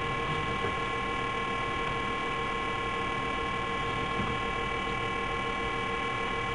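Light aircraft engine during the take-off roll in instrument weather conditions, a steady, loud, unbroken drone with a constant hum throughout.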